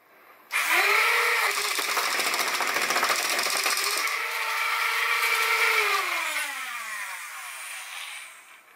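A modded foam dart blaster with swapped motors, a Tempest, fires rapidly in one continuous loud burst: a rising motor whine with dense buzzing shots for about six seconds, then the motors spin down as the magazine runs empty.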